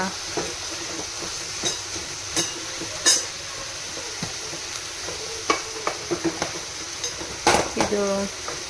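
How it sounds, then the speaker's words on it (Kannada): Curry leaves go into a hot pan and are stirred: a continuous oily sizzle carries through, punctuated by repeated metallic scrapes and clinks of a spoon against the pan, close and fairly loud. "ನಾನಿವಾಗ ಇದಕ್ಕೆ ಸ್ವಲ್ಪ ಬೇವಿನ ಸೊಪ್ಪು ಕೂಡ ಹಾಕ್ತಾ ಇದ್ದೇನೆ."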